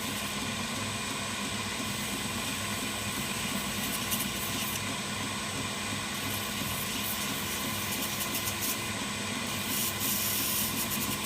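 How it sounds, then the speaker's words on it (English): Hand sanding a knife handle gives a steady, continuous abrasive rasp close up, with a few brief brighter swells and no talking. "when I come to hand sand"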